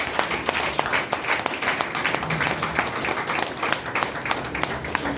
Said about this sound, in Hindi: ताली मार सकते हैं?